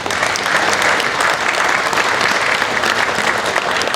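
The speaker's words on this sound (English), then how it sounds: "let's give this group of cows a big round of applause" Audience at a Holstein dairy cattle show claps loudly and steadily, a dense, continuous round of applause lasting throughout without a break.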